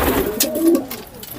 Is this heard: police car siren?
no